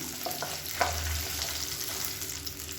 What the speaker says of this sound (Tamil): இப்போ சின்ன வெங்காயம் கொஞ்சம் லைட்டாக வதங்க ஆரம்பிச்சிருச்சு